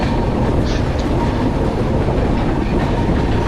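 Samaleshwari Express rumbling along the tracks through the Eastern Ghats between Rayagada and Koraput, a steady loud roar of wheels and carriage noise with faint rhythmic clatter, no voices.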